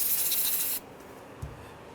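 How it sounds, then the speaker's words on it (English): Aerosol brake cleaner sprays in one loud, hissing burst lasting under a second onto the caliper pins of a 2003-2011 Honda Element front brake job. It cuts off abruptly and is followed by quiet room tone and a faint knock. "We're going to hit those with some brake clean as well."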